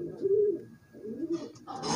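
Soft, low pigeon cooing, two throaty rolling coos close by from a pigeon with hemorrhoids, with a faint rustle at the end.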